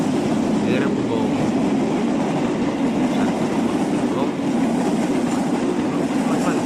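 Toy train with two CC 201 locomotive wagons rolling steadily along a plastic track, giving a continuous rumbling clatter that holds at an even level throughout without clear breaks.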